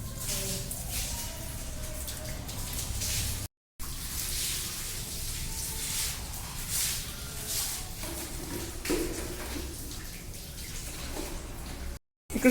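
Water is sprayed across a building floor and swept along with a broom, a steady close hiss and splash running almost without pause, broken by two brief cutouts.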